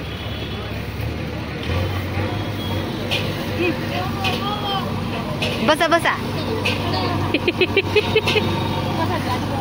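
A vehicle engine runs steadily while the vehicle turns in a tight space, a continuous low hum under loud, close conversation and calls from people nearby.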